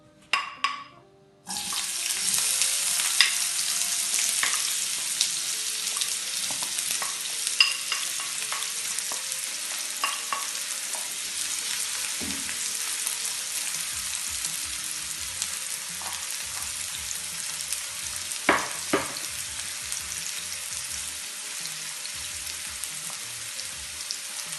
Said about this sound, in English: So we are going to throw in our onions, tomatoes, and fry that up.